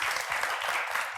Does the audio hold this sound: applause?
yes